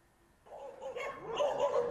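Dogs at a dog shelter bark joyfully, a cluster of fairly faint yaps and barks that begins after a short quiet moment and builds toward the end.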